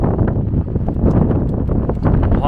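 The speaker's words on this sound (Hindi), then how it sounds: "बहुत तेज़ हवा चल रही है" Strong wind blows outdoors in Germany on a stormy day, buffeting the microphone with loud, continuous low rumbling gusts and rustle.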